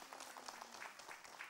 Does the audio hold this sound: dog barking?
no